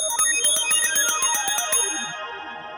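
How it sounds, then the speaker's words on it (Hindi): A bell rung rapidly over and over, bright metallic strikes in a fast run that slows and rings out into a fading tone. "बाबूजी टिरिन टिरिन घंटी काहे बजा रहे हैं?"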